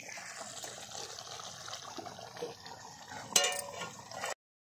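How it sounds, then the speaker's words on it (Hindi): A blackened kadai is washed with water, giving a quiet, continuous trickle and splash with faint scraping and a brief metallic clink near the end. "तो ये भी अंकित जी धोएंगे क्या जी?"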